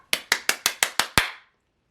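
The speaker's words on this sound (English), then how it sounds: "Let me get a clap." Seven sharp hand claps land in a quick, even rhythm, close and clear, with a slightly stronger final clap before silence.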